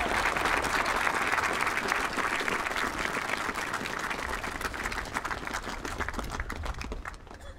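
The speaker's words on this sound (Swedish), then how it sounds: "sen ytterligare en applåd för det här fantastiska talet." An indoor audience gives sustained, dense applause after a speech at a spring singing celebration, loud and steady at first, then thinning and fading toward the end.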